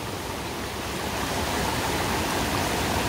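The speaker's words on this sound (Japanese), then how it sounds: "ここの大きい川を渡らないと" A large river rushes past at a hiking-trail crossing on Iriomote Island, a steady, loud, unbroken roar of flowing water filling the whole clip with no voices.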